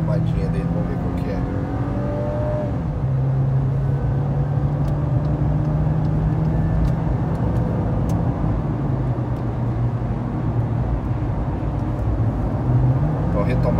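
A Volkswagen Polo MSI 1.6 automatic accelerates from inside the cabin, a steady engine drone rising and holding in pitch with road noise throughout, while someone talks over it.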